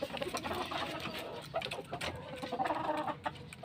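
Chickens cluck and chatter continuously nearby, several birds overlapping in busy, irregular bursts with no talking.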